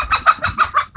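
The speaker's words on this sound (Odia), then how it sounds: "ଏ କୁକୁଡ଼ା ଟିକେ ସେଣେ ପଳା।" A chicken clucks close by in a quick run of about six rhythmic, nasal pulses, loud and alone, at a temple site.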